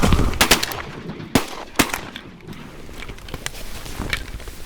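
Shotgun blasts ring out during a duck hunt as a flock comes in: several sharp, loud reports, two especially strong ones spaced about half a second apart, over an open outdoor background with faint rustling.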